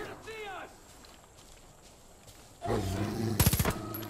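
Gunfire in the Far Cry 5 video game: quiet at first, then a rapid burst of several loud shots near the end over low game ambience, with no talking.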